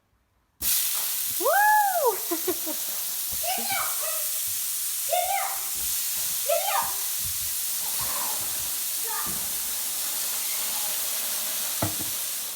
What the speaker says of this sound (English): this is the most satisfying part of cooking these tacos, is the sizzle